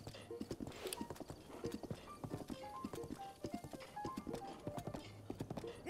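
Horse hooves clip-clop in a steady galloping rhythm in the video game Zelda Breath of the Wild, moderately loud and continuous, with faint background game music and no talk.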